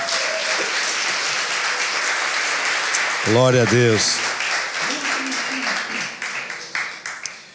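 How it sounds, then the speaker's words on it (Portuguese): A church congregation bursts into loud, sustained applause during a sermon, with the clapping continuing under a brief spoken exclamation and then tapering off. "Vamos dar uma salva de palmas para Jesus, gente?"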